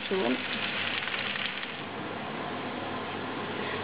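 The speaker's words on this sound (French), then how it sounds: "Donc les pommes de terre sont bientôt terminées d'être rissolées." Potatoes for a Maroilles tartiflette sautéing in a pan, giving a steady, broad sizzle throughout with a brief voice near the start.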